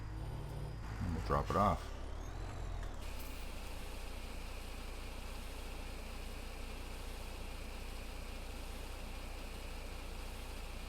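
A Mack semi truck in Farming Simulator 17 rumbles steadily at low pitch, its engine droning evenly for most of the stretch after a brief spoken remark near the start.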